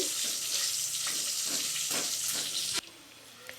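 Crushed garlic frying in a pan for tomato rasam: loud, close hissing sizzle with stirring scrapes that cuts off abruptly near the end, leaving a quieter background.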